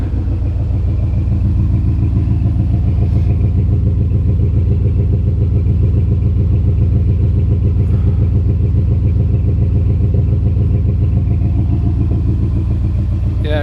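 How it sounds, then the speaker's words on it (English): A cold 1980 Pontiac Turbo Trans Am idling, its engine and exhaust giving a steady, loud, close low rumble with an even throbbing pulse and light mechanical clatter, with no voices over it. "Exhaust sounds decent."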